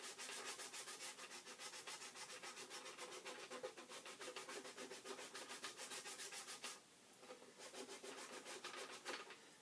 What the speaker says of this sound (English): So what I'm going to do is I'm going to just burnish this.